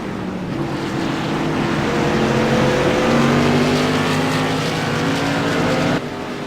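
Modified race cars scream down the front stretch at Martinsville Speedway, a loud continuous engine roar with rising and falling pitch as several cars pass close together.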